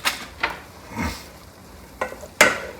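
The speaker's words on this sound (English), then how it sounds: "Give it a good stir" A spoon scrapes and stirs penne pasta with melting mozzarella in a hot pan, giving several close, separate scraping strokes over a soft sizzle.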